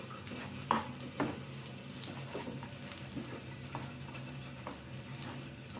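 Soft, steady sizzle of chickpea-lentil halwa frying dry in a pan until reddish, with a few scraping stirs and light clinks of a spoon, no voices.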